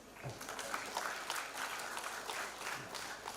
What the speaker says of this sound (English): we shall give a more deserving hand clap than that